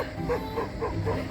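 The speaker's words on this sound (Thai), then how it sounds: "เสียงหมาเห่านะ" A dog barks several times at a distance in a rural setting near rice paddies and a red lotus field at dawn, the short yaps rising faintly over steady outdoor background noise.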